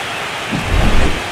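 Rain and thunder from the MLB The Show 25 baseball video game: steady rainfall with a deep rumble of thunder that swells midway and rolls on, loud and close, with no speech.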